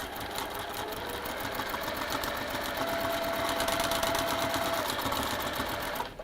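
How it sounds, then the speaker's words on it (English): A domestic sewing machine stitches along a fabric seam line with a rapid, steady mechanical whirr and fine needle clatter, running continuously at even volume close by before stopping at the end. "starting a little bit in my seam allowance and sewing on that line."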